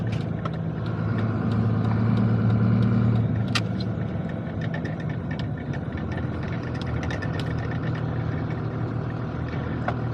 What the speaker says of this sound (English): that way you can listen to the engine in the stacks a little better